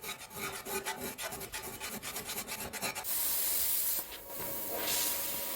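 A small hand file rasps across a plasma-cut metal piece clamped in a vise, first as quick rhythmic strokes for about three seconds, then longer, smoother continuous scraping passes, close and fairly loud with no talk.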